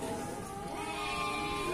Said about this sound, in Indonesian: Domba kacangan.